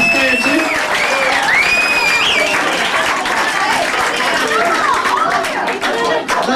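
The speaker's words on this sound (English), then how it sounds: "a round of applause for the birthday boy" An audience at a hypnosis stage show gives loud, sustained applause for a birthday boy, thick clapping mixed with crowd chatter and whistling cheers that carries on throughout.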